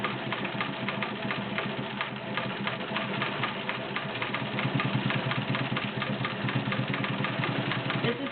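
A vintage White 970 Selectronic sewing machine, a 1.6 amp electric model, stitches a decorative checkerboard pattern with a steady, fast, close mechanical chatter that runs loud and unbroken throughout.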